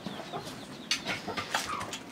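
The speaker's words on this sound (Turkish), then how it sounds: "İki ligorin tavuğu." Two Leghorn hens, one Isabel and one porcelain, cluck softly in a coop, with a few brief, closer squawks over quiet background noise.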